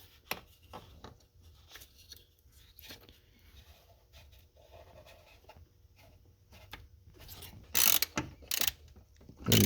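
Small mechanical clicks and rattles as a MAP sensor is pushed into place and snugged lightly on a Kia/Hyundai 2.4L engine, quiet sparse handling noises with a few sharper clicks near the end.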